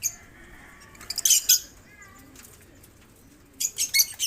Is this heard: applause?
no